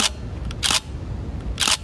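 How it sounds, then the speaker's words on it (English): SLR camera shutter firing at a fast speed of 1/4000th of a second, three crisp close clicks spaced irregularly, loud and alone with no talk. "I'm going to let you guys listen to what a fast shutter sounds like"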